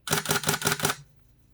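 A Nikon D600 shutter fires in continuous high drive, about six rapid, even mechanical clacks in under a second, loud and close, then stops, leaving faint room quiet.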